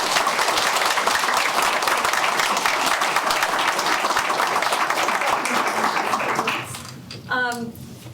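Audience applause at a school board meeting after student award winners are announced, a sustained loud clapping from a room of people that fades out near the end as a voice begins.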